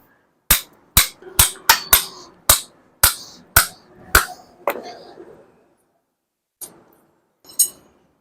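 Hammer blows drive an anchor for a Trévi carport shelter into the ground, about nine sharp metallic strikes in a quick, fairly even rhythm, close and loud, then a pause and two fainter clinks.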